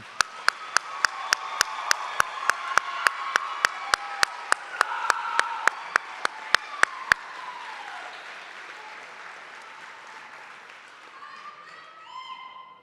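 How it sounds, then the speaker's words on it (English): Audience at a GED graduation ceremony gives the graduates a round of applause, with sharp loud claps standing out over a dense crowd clapping for about seven seconds before it fades to a quieter murmur. "what this community would like to do is just give you one more round of applause"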